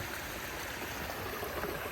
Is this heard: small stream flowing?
yes